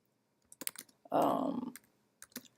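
Typing on a computer keyboard: a few quick clicks, then a dense burst of rapid keystrokes, then scattered taps, close and fairly quiet.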